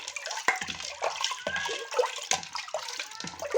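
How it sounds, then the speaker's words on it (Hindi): Cold water poured from a glass into a pot while making pani puri water, with close splashing and sloshing in uneven pulses and a faint clink of the vessel. "अब डाल देंगे इसमें ठंडा पानी"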